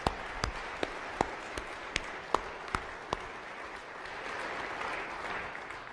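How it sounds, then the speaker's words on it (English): A chamber of commerce audience at a State of the City address applauds: a few separate claps first, then a steady patter of clapping from the room. "a round of applause for what they're doing for our community"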